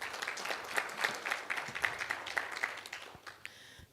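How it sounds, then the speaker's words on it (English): Applause from an audience at a stakeholder meeting on a disaster risk management plan, a steady mass of clapping at moderate level that thins out toward the end, with no talk over it. "Please give them a round of applause again."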